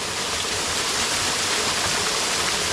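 Water rushes steadily down a creek bed that had run dry the previous summer, a loud, continuous broadband splash and gurgle with no voices over it.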